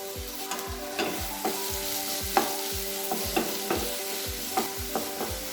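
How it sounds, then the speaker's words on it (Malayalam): Two medium onions, finely chopped, frying in hot oil in a pan, a steady loud sizzle punctuated by rhythmic spatula scrapes and taps roughly every half second, close up with no talking. "ഇതിലേക്ക് ഒരു 2 മീഡിയം സൈസ് സവാള ചെറുതായിട്ട് കട്ട് ചെയ്തിട്ട് കൊടുക്കാം."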